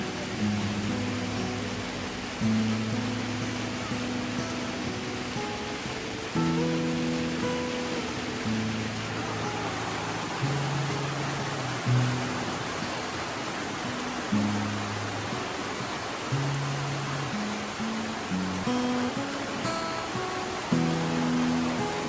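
A steady, dense wash of heavy rain in a forest fills the background throughout, with a low humming tone wavering beneath it.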